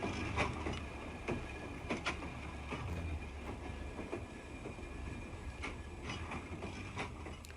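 Electric interurban train cars from 1941 Indiana roll out of Indianapolis, with rhythmic clickety-clack of wheels over rail joints and steady rumbling at moderate volume.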